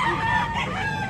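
A streetcomb rooster, a white-legged gamecock for sale at a market, crows once close by in a single sustained call over steady background crowd noise.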